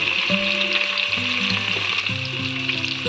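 Mustard seeds and spices sizzle in hot oil in a pan for a jackfruit seed palya, a steady close crackling fry with faint tonal clinks running through it.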